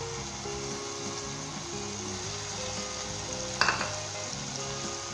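Noodles sauté in a pan with soy sauce, spices and ketchup, sizzling steadily under background music, with a brief clatter of stirring partway through.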